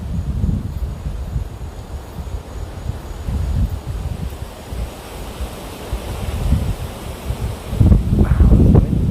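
Strong wind blows outdoors, a loud, continuous rumbling buffet that gusts and swells unevenly and grows strongest near the end, with no voices.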